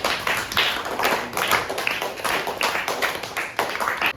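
Schoolchildren in a classroom clap together in quick, close, uneven bursts that keep going for several seconds.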